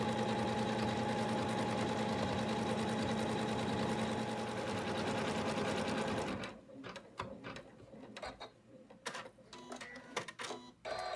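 An embroidery machine stitches an in-the-hoop Santa bib, a loud steady rapid whirring rattle for about six seconds, then stopping, leaving quieter scattered clicks and small handling knocks.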